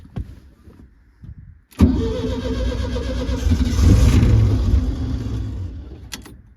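Old car engine cranks and fires on easy start spray in the carburettor, catching suddenly after a brief quiet pause, then running rough and loud close by, swelling with a rev before easing off.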